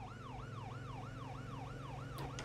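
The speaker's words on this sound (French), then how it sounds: "je commence à mettre les sirènes dès que je suis assez près." Emergency vehicle siren wailing in a steady, rapidly repeating up-and-down sweep, loud and close over a low engine rumble, with no talking.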